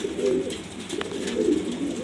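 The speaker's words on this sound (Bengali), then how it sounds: "এখানে সব টপ কোয়ালিটি কবুতর গ্রিজেল ব্লু রেসার" Grizzle blue racing pigeons give soft, throaty coos in two close, rolling bursts separated by a short pause, with faint background chatter of the loft.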